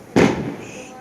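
A Diwali firecracker bursts with a single loud, sharp bang that decays into a brief rumbling tail, close by and standing alone.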